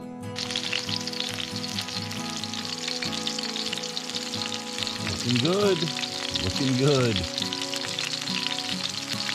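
Steady crackling sizzle of food frying in hot oil outdoors on a canoe camping trip, continuous and close, with a voice speaking briefly partway through.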